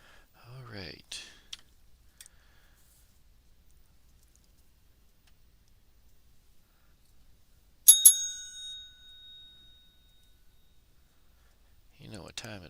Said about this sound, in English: When you hear the bell, it can only mean one thing